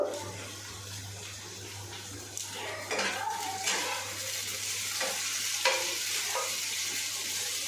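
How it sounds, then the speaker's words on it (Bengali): Dal (lentils) simmers in a pot and is stirred, giving steady bubbling with scraping and clinking of a utensil against the pot, close and continuous with a low background hum. "এই যে একটু ফুটবে ডালটা একটু"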